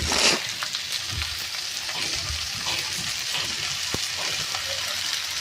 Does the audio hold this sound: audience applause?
no